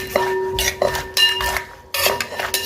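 Repeated metallic pounding in an aluminum mortar, sharp ringing clanks every half second or so, bright and close.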